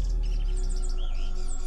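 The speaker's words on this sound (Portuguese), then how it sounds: "Um passarinho cantando." A small bird sings in short, high chirping phrases outside an abandoned house, fairly faint over a steady low rumble of wind or traffic throughout.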